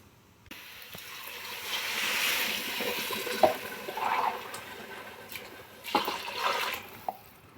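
Water being poured into a covered pot of rice for pilau over low heat, a soft, fairly faint rushing pour that swells and ebbs over several seconds.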